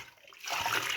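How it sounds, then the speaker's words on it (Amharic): Water splashes into a vessel of fermented injera dough, poured in to rinse and cover it, starting abruptly after a quiet moment and continuing as a close, steady splashing pour with no talk. "እና አሁንም የተወሰነ ውሃ ጨምረን እንተዋለን ማለት ነው።"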